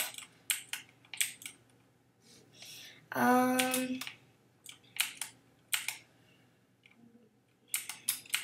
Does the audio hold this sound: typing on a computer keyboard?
yes